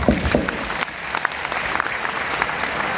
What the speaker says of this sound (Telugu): ఒక్కసారి మన కోసం మనం గ్రాండ్గా క్లాప్ పెట్టుకున్నాం.